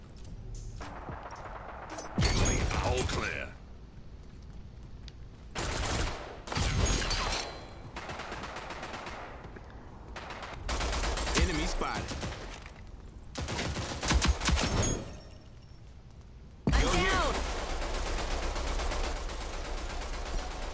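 Bursts of automatic gunfire in the shooter game Rogue Company, loud close volleys alternating with quieter gaps, several separate bursts across the stretch.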